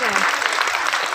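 Audience clapping at a children's prize distribution on stage, a dense, steady burst of many hands filling the short moment, fairly close and loud.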